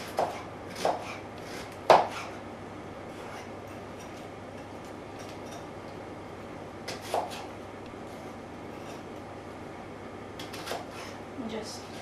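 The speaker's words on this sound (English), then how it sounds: "And then just cut it as finely as you can." A knife chops through food on a board while it is cut as finely as possible, a few sharp isolated knocks spaced apart over a steady low background hum, with a speaking voice present.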